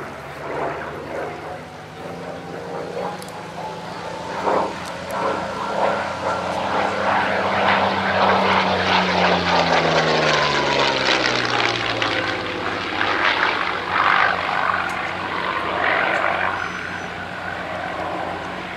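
A Yak 3 warbird fighter's piston engine roars loudly during a flying display at East Kirkby. The propeller drone swells and its pitch drops as the aircraft sweeps past, then fades slightly.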